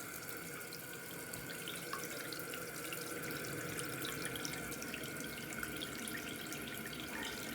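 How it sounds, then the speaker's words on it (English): Tap water runs steadily into a porcelain sink, a continuous hissing splash at moderate volume with no break and no voices. "So I'll turn on the water real quick and you see how the water responds to the sink."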